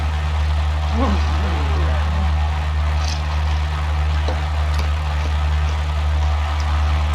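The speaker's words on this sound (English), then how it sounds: "Listen to that engine purr." A constant low aircraft engine drone, from a flight simulator game, hums throughout, with a voice speaking briefly over it.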